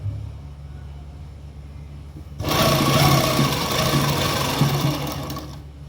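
A sewing machine stitches lace onto fabric in a boutique. It starts after a quiet opening and then runs loud and steady, a close, continuous mechanical whir through to the end.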